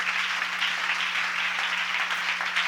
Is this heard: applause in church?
yes